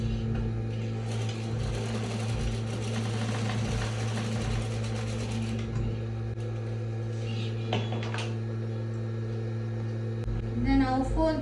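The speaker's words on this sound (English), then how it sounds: "put the elastic together and stitch on it like" A sewing machine stitches the joined ends of an 18 by 1 inch elastic band two or three times for a baby girl's ruffle skirt, a steady close mechanical hum running throughout with a few brief clicks near the end.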